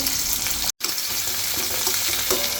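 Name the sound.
finely chopped onion frying in oil with cumin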